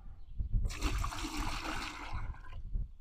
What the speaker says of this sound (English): Now, I'm going to add a little water.